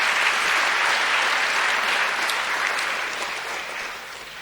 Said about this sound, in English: a big round of applause for the fathers as well